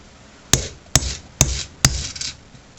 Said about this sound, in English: I'm going to give it a few good hard whacks. This is a 2-pound hammer.